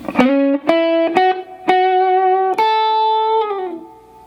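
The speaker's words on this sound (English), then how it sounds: "Getting started with lick number 1, it's going to look and sound like this" Electric guitar playing the first lick of the solo, slow and distorted: a handful of picked notes joined by slides, ending on a sustained note that fades out.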